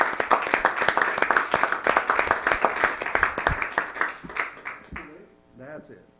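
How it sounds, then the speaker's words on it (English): Audience at a regular commission meeting giving a round of applause, close and lively clapping from a modest crowd that fades out after about five seconds, followed by a voice speaking. "we need to give her a big round of applause for everything she's been doing."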